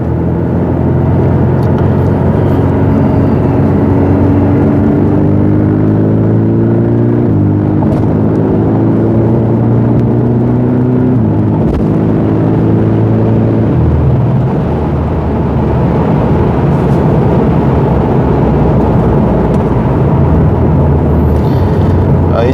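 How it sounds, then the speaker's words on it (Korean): Porsche 718 Boxster 2.5 GTS with a factory sport exhaust and 7-speed PDK, its engine rumbling loud and steady at a raised idle with gentle rev swells throughout, no talk over it. "RPM이 공이전 RPM이 조금 상승을 하고요. 배기 사운드도 조금 더 증폭이 됩니다"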